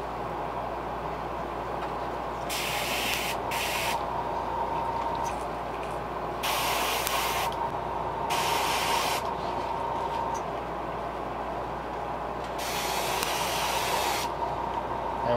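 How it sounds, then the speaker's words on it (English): Bursts of hissing paint spray at about 40 psi come in several separate blasts of a few seconds each over a constant mechanical hum, close and fairly loud, while painting a fishing lure. "We're going to be spraying this with about 40 pounds of pressure."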